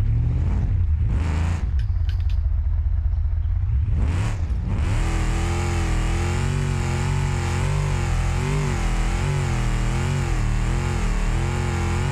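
A Ford Bronco engine in BeamNG.drive revs hard while climbing a steep hill, a loud, continuous droning roar with rising and falling pitch after a few brief bursts at the start.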